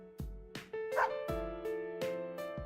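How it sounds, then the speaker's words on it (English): A white dog barks in the fighting game Persona 4 Arena, a run of evenly spaced sharp synthesized bow-wow barks, close and clear with no talk. "Snowy barks once as if comprehending its name."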